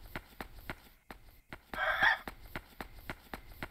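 A short chicken cluck in the night-time horror game Yomawari: Night Alone, one brief bright burst standing out over a steady, evenly paced patter of small footsteps, with no talking.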